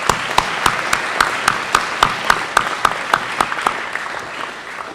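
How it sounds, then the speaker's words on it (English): An audience applauds at a school district awards ceremony in Texas, steady crowd clapping with a few sharp, distinct claps standing out in a regular rhythm, fairly loud and continuous. "So let's give all of them a big round of applause"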